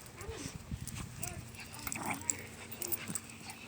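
Two small dogs scuffle and play-fight with short yips, whimpers and growly bursts close by, while a person talks over the commotion and scrabbling paws patter throughout.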